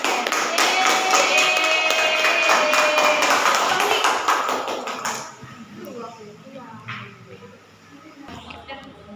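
Applause from a classroom of students for a classmate: a dense burst of many hands clapping for about five seconds, then fading out, followed by quieter room noise and a few voices.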